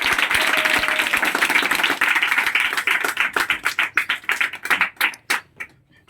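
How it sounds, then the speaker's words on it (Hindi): A group of village schoolchildren in Kishangarh, Dewas, Madhya Pradesh claps for a classmate's correct answer: a dense burst of clapping close by that thins into scattered, separate claps and dies away. "इसके लिए एक जोरदार ताली तो बनती है"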